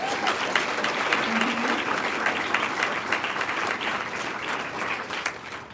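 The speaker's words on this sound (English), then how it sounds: "So if we could give them a round of applause." At an international student convocation, the audience gives a round of applause for international students. The clapping is dense and steady, with a faint voice or tone briefly audible early on, and it tapers slightly toward the end.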